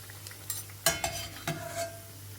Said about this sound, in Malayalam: രണ്ട് സൈഡും ഗോൾഡൻ കളർ ആകുന്നത് വരെ ഫ്രൈ ചെയ്തെടുക്കുക